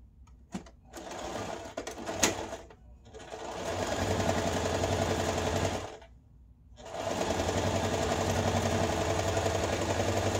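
A sewing machine runs in steady bursts while stitching a Mario and Luigi cap, with a few short clicks at the start, then two long, continuous whirring runs separated by a brief pause, close and fairly loud.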